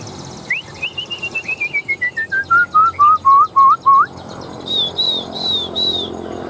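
A songbird sings nearby, loud and alone: a rising whistle drops into a quick run of slurred descending notes, then a steady series of six evenly paced pulsed phrases, and finally a few high, clear repeated whistles.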